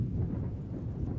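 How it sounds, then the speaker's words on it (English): Steady rain falls with low, rolling thunder rumbling throughout, a dense continuous wash of sound in a town's streets, no voices. "as it continues to rain"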